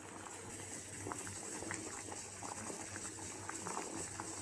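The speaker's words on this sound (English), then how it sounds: "So now our rasgullas are happily boiling in the sugar syrup" Rasgullas boil in sugar syrup, bubbling and simmering steadily at a low level, a soft continuous boil with small pops throughout and no talking.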